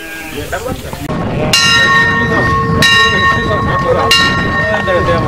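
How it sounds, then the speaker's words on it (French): A special bell at a memorial ceremony in Mbalakhate rings three times in clear, evenly spaced metallic strikes with long ringing tails, loud and near over a murmuring crowd background. "Une cloche. Mais une cloche pas comme les autres."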